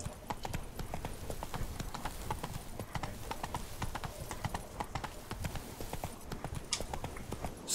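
Roach the horse trots in The Witcher 3, its hooves clip-clopping in a quick, even rhythm with crisp close impacts and light game ambience beneath.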